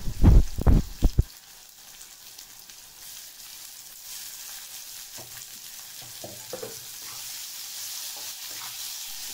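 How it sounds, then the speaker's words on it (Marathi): Finely chopped onion and tomato sautéing in a pan for a fresh small-shrimp dry curry, opening with a few loud close clattering stirs, then settling into a steady soft sizzle with occasional light scrapes, no talking. "मी आता यामध्ये बारीक चिरलेला कांदा आणि बारीक चिरलेला टमाटा टाकून घेणार आहे आणि आता याला परतून घ्यायचं आहे"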